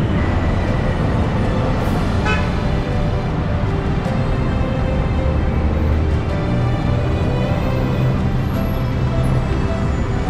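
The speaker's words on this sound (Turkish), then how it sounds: "Bakar mısınız Skytrain'e?" Steady, dense rumble and roar of an elevated Skytrain passing overhead in Bangkok, continuous and fairly loud throughout with faint high whines on top.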